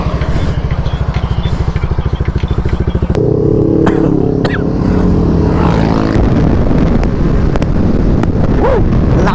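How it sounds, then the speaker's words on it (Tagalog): A Yamaha Aerox 155 scooter at a Quezon City endurance challenge revs loudly and close by, with a steady pulsing idle that jumps into a higher, rougher roar under wind buffeting; faint voices are mixed in. "Lakas na motor ni Pops Arnold"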